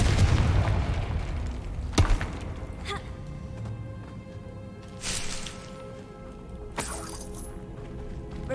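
The Confringo fire spell in Hogwarts Legacy lands as a series of sharp blasts with shattering edges, three distinct bangs spaced a few seconds apart over quieter game ambience.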